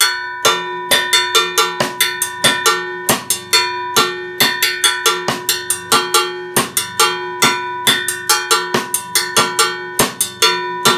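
Mambo bell pattern on a cowbell combined with a 2-3 clave rhythm on a drum kit, a steady loud run of bright metallic strikes in a syncopated repeating groove, played alone without talk.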